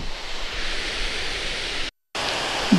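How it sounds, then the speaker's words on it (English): Icelandic double-drop waterfall fed by glacial meltwater, plunging more than 30 meters into a narrow gorge: a steady, loud, broadband roar with a brief cut to silence before the rush resumes. "A double drop waterfall with a cascade of more than 30 meters and generating millions of gallons of water crashing into a narrow ravine or gorge"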